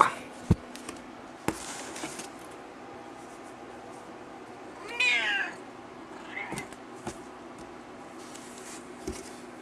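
A cat meows from inside a box in a quiet room, several distinct calls spread out with a longer cry midway, over a low steady hum and a few sharp taps.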